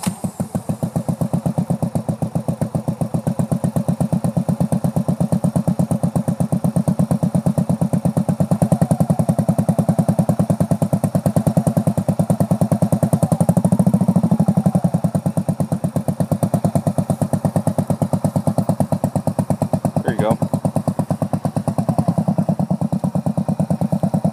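A motorcycle engine running steadily on grass during a riding lesson, a continuous close rumbling putter with slight rises and dips in revs throughout, no speech over it.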